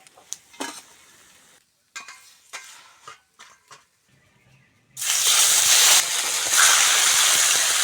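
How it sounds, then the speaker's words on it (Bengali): Bata fish frying in hot oil in a pan: first a few scattered clinks and stirring clatters with quiet gaps, then a loud, dense, steady sizzle takes over for the last few seconds. "মাছগুলো ভাজা হয়ে গেছে তেল থেকে তুলে নেব"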